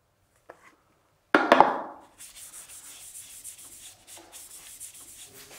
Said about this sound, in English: We wipe it all over the surface.